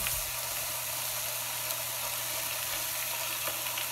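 Thin pork chops fry steadily in a pan, a continuous broadband sizzle with crackling pops, close and even throughout with no talk.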